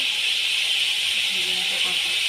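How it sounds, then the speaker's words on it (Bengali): Spiced masala in a pan gives a steady, loud hiss as fried potatoes go in, a continuous sizzle with faint clatter beneath it and no clear speech. "এবার আমি ওর মধ্যে ভেজে রাখা আলুগুলো দিয়ে দেব"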